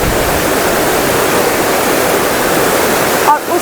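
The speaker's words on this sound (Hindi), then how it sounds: "और ये नदी का शोर तो और भी बहुत अच्छा लग रहा है" River water rushing steadily in the open near Mahabaleshwar or Panchgani, a loud continuous broadband roar that holds evenly throughout with a brief disturbance near the end.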